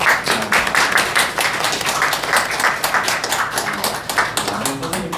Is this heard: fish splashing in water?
no